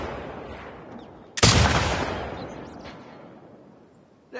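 A single loud gunshot cracks out in The Last of Us Part II, fired at a sign, followed by a long fading echo that rolls away over quiet ambient background.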